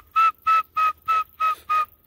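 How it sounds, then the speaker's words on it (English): Six short, clear notes whistled with the tongue in an even rhythm, each at the same pitch with brief gaps between them. "that's how you whistle with your tongue"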